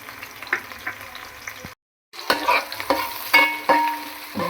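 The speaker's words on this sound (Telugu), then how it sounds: "కొంచెం మంచి ఫ్రై బ్రౌన్ కలర్లో కొంచెం రావాలన్నమాట." Onions and green chillies with bay leaf fry in a pan, loud close sizzling with scraping stirs and clinks of a utensil, broken by a short silent gap.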